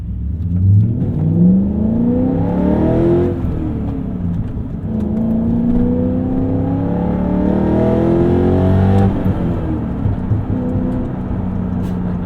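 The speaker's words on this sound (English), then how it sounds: "Gotta love the sound this V8 makes." BMW E39 M5 Touring wagon with a V8 engine on BC coilovers, revving hard in repeated rising and falling sweeps that build, dip around the three-second mark, then climb again, loud and close throughout.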